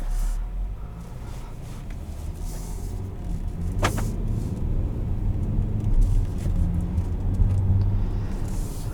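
A 2021 Volkswagen Atlas SEL V6 driving on the road ahead of rain, heard from inside the cabin as a steady low engine and road rumble with one brief sharp click midway.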